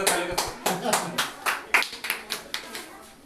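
A small group claps in a loose, uneven rhythm of distinct hand claps to welcome a speaker at a business seminar, close and moderately loud.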